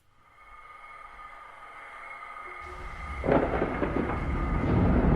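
Thunderstorm sound effect opening a talk show, with a low rumbling roll of thunder that builds and swells loudly near the end over a steady wash of rain-like noise, no voices.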